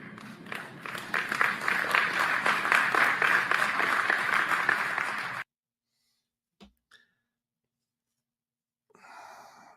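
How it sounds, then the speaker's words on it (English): Tepid applause from a small audience of about five people, thin scattered clapping lasting several seconds before stopping abruptly, followed by near silence with a few faint clicks and a soft noise at the end. "That was probably some of the most tepid applause"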